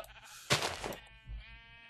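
Sheep in the game Minecraft bleat in a loud burst around the middle, followed by a shorter second bleat, close and without talk.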